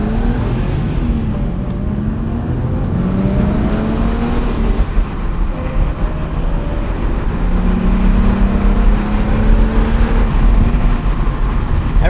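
A 1995 BMW E36 M3 Lightweight with manual transmission driving on the road: a loud, steady engine drone heard from inside the car, with rising and falling pitch as the revs climb and drop through gear changes, and road and wind noise underneath.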